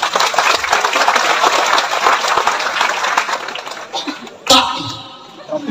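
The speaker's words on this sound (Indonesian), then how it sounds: "Tepuk tangan." Church congregation applauding during a revival sermon, sustained dense clapping that fills the room, loud and steady before tapering off, with a voice briefly heard as it fades.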